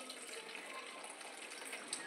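Water is poured onto potted plants, a soft, steady splashing stream running without a break, faint and unaccompanied by talk.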